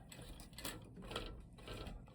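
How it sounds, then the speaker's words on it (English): A sewing machine back-stitches a skirt waistband, with a quiet, close mechanical whir and rapid needle clatter pulsing in short bursts. "I'm going to back stitch"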